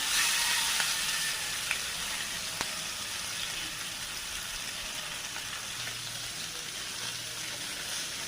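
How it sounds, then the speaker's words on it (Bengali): Pieces of catla fish seasoned with salt, turmeric and chilli powder sizzle steadily in hot mustard oil, a continuous close hiss with a few faint clicks and crackles, no voices. "এবারে সরষের তেলে ভেজে নেব"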